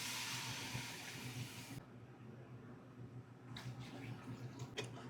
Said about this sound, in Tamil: ஸோ இப்போ நம்ம தண்ணி சேர்த்துடலாம்.